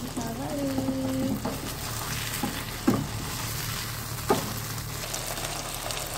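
Chicken pieces frying in plenty of hot oil give a steady, close sizzle, with a few soft knocks and scrapes as the pieces are turned over.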